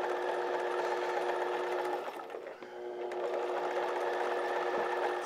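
A sewing machine runs a long seam on pajama pants with all-purpose thread, its steady close whirring hum slowing briefly midway before resuming at full speed.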